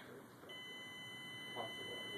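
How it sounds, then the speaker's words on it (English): An electronic buzzer sounds a steady, high-pitched tone that holds throughout, fairly faint, as if a system is running a self-check. "When we initialize it, it comes up with the buzzer soundings, kind of as a system check."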